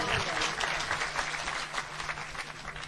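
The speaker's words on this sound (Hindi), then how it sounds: "मुंतजर मेहदी साहब के लिए जोरदार किस्म की तालियां।" Audience applause for a guest at a live Urdu-Hindi speaking event, steady dense clapping from a crowd lasting the whole moment, moderately loud with a faint hum underneath.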